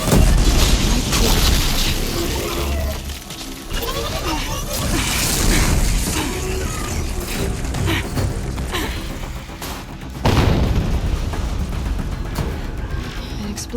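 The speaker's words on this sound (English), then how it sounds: "a charge. An explosion." Loud explosions and booming blasts in a Horizon Zero Dawn Remastered battle, dense and continuous with rumbling bursts and sharp pops, a renewed heavy blast near the end, no talk.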